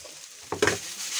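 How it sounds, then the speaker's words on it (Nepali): Chowmein stirred with sauces in a hot pan, a quiet sizzle broken by a brief scrape-and-toss burst halfway through, then the low frying hiss carries on. "यसलाई राम्ररी चलाउने।"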